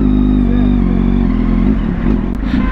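A Yamaha TMAX 530 scooter engine labours on the road, a loud close rumbling drone that wavers and clatters slightly as it climbs.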